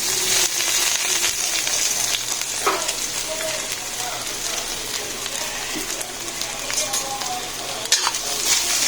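Ginger sautéing in a small amount of cooking oil for chicken tinola, a steady soft sizzle with occasional stirring clicks and scrapes, close by and fairly even throughout.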